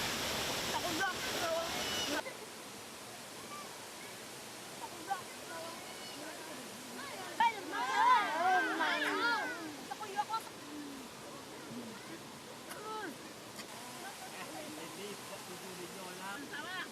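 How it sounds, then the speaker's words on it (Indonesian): Waterfall at Talang Paruh in Lembah Masurai, Merangin, Jambi, a constant soft rush of falling water heard from some distance, with faint voices and splashy bursts over it in the middle. "Selesai makan, asiknya mandi di bawah air terjun."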